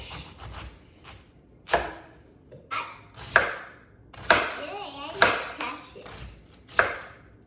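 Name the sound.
knife chopping cabbage thinly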